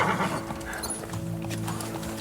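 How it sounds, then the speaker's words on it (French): Riderless horses pass through mist on a battlefield, neighing as their hooves clop, heard as a faint, busy wash of hoofbeats and whinnies. "Des chevaux sans cavalier passent en hennissant dans la brume"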